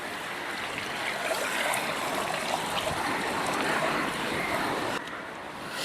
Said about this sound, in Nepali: यहीँ उम्रेको पानी हो होला